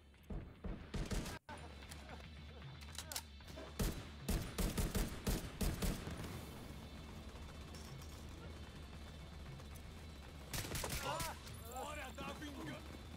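An enemy opens fire in The Division 2, with bursts of automatic gunshots coming in clusters amid game noise while a player talks over them.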